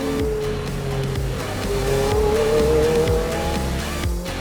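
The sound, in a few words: Ferrari race car accelerating, turbo spooling up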